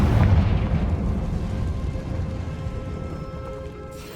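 A loud, close Confringo spell explosion in Hogwarts Legacy, a heavy booming burst at the start that decays into a long rumbling tail.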